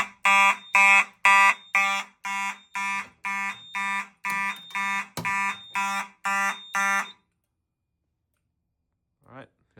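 Fire alarm horn-strobe sounds during a system test, a loud regular series of about fourteen sharp pulsed blasts that cut off abruptly, followed by silence and a brief faint sound near the end.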